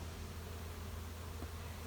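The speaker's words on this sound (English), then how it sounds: "The bees." Honey bees drone steadily at a hive during a honey harvest and winterizing, a continuous close buzzing hum with no talk.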